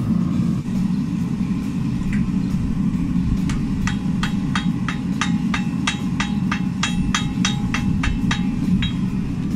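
Gentle hammer taps forge-weld a Damascus steel billet over the low, constant roar of a forge, with a few scattered strikes at first, then a steady, evenly spaced series of bright metallic taps.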